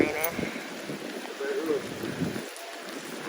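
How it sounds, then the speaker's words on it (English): Rain falling outdoors, a soft steady patter and hiss heard from inside a car, continuous and moderately faint throughout. "Oh, it's raining."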